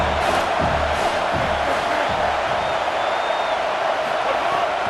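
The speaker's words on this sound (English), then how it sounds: "Man, this crowd really affecting the football game." A college football video game crowd roars at a Texas A&M game, giving a dense, continuous wash of cheering and shouting that stays loud the whole time, with faint whistle-like tones and no clear talk on top.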